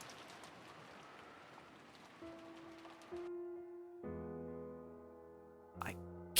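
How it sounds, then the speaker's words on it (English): Downpouring rain from Umineko When They Cry, a soft, steady hiss for a few seconds under faint tones, then giving way to sustained musical notes. "the sound of the downpouring rain kept turning their attention towards the mystery guest"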